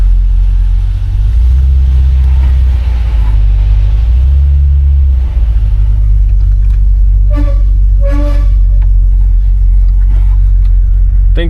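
A 1968 Cadillac Eldorado rumbles loudly and close as it is put in drive and pulls away, its deep engine drone swelling briefly, then steadying, with a few faint squeaks near the end.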